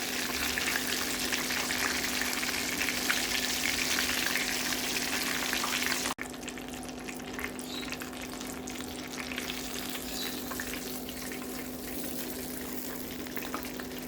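Crispy fried chicken sizzles steadily in hot oil, a dense crackling hiss close by that drops sharply partway through and then continues more quietly without any voices.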